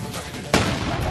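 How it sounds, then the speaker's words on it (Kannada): A sodium explosion goes off in one sharp, loud blast that cuts through a continuous roaring rumble and then fades back into it, heard close. "ನೋಡಬಹುದು ಫುಲ್ ಬಾಂಬ್ ಬ್ಲಾಸ್ಟ್"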